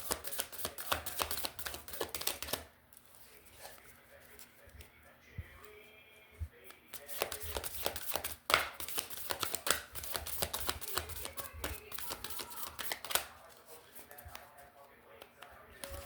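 Rapid riffling and snapping of playing cards being shuffled, repeated in bursts, with quiet speech in the background.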